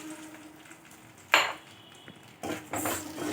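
Semolina being roasted with poha in a pan for instant aval idli, a couple of scraping stirs and metallic pan clatters over quiet background.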